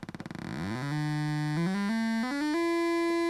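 A buzzy sawtooth oscillator signal from a Braids synthesizer module opens with rapid pulsing, then sweeps up into a sustained tone that steps upward in pitch several times, loud and continuous, with no talking.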